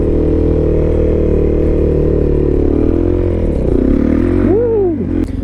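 A Suzuki DRZ motorcycle being ridden, its engine droning loud and steady with a wavering pitch throughout, then briefly revving up and down near the end.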